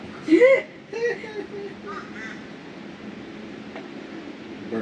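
An outdoor bird gives a loud, harsh, crow-like caw near the start, followed by a couple of weaker calls that fade into quiet ambient noise.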